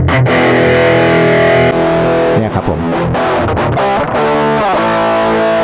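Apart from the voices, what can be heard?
distorted electric guitar through Hotone Omni IR loader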